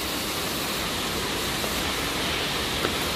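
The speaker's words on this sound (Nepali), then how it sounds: "अनि मेन झरना चाहिँ यता रहेको छ।" Ghorle waterfall in Sankhuwasabha, Nepal, made fuller by rain, pours in a constant loud rushing roar close by, with no talking.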